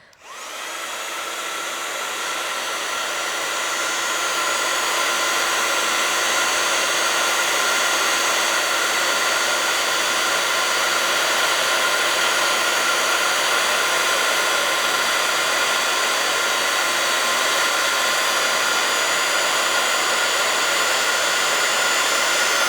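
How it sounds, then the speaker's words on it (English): A heat gun blows hot air to melt embossing powder on stickers, a loud steady whirring blast that spins up at the start and holds constant throughout, with no voices. "we're literally gonna take a heat gun and just apply heat, and it's gonna melt that powder together"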